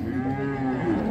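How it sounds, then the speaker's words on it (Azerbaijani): A calf at a Beyləqan livestock market lets out one long, steady moo that fills the whole moment, close and loud, with no talk over it. "Belə danalar var, hörmətli izləyicilər."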